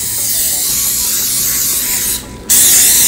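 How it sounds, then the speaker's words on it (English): Cooking spray hisses from a can onto a knife and a jackfruit being prepared in a kitchen. Two loud, close bursts are heard, a long continuous spray broken by a short pause before a brighter second spray. "So I'm gonna spray my knife with cooking spray."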